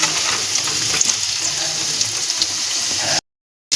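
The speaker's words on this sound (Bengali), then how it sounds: "আলুটা আমি 3-4 মিনিট নেড়ে চেড়ে ভেজে নিচ্ছি।" Potato pieces sizzle steadily in hot oil in a pan while being stirred, a continuous close frying hiss with light scraping, cut off abruptly by a brief silence near the end.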